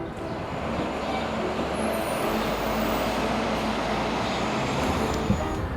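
Steady, dense city street traffic in Philadelphia near downtown skyscrapers, a continuous broadband roar of cars and heavier vehicles with a faint high whine above, no speech.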